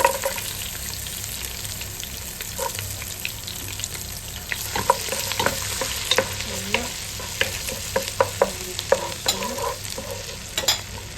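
Chopped ginger and garlic frying in hot oil in a pan, a continuous close sizzle with frequent crackles, pops and scraping stir strokes, and no voices.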